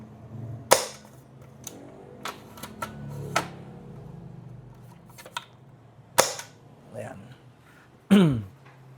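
An airsoft L96 sniper rifle fires a few sharp, quiet cracks spaced several seconds apart, with small clicks and handling noises in between, heard close in an indoor space.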